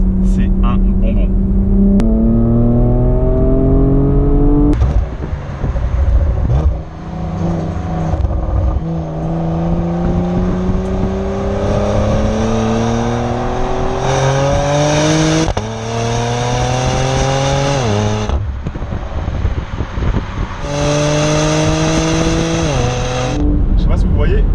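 A Porsche Macan Turbo with Performance Pack accelerates hard, its engine note rising steadily and dropping at each gear change, repeated through several upshifts, loud and close, with a voice talking over it.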